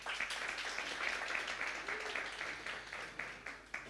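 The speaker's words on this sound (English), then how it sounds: "So give yourselves a round of applause." Applause from a workshop audience, a steady wash of many hands clapping at moderate distance, sustained without pause and fairly soft.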